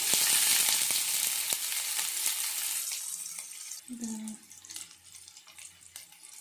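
Chopped onions fry in oil with cumin, bay leaf and dried chilli, a loud, close sizzle that gradually fades into quieter crackling, with a brief stir and a short voiced sound partway through.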